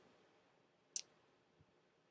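A single sharp computer mouse click, close and quiet, standing alone against near silence, followed by a couple of faint soft taps.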